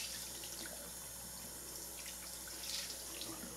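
Tap water runs into a sink to wet a makeup sponge, a faint, steady splashing hiss heard up close without any talking.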